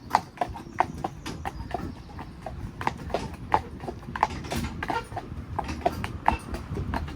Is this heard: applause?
no